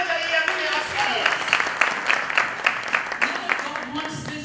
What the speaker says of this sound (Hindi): बड़ी तालियां बजाइए अपने आप के लिए।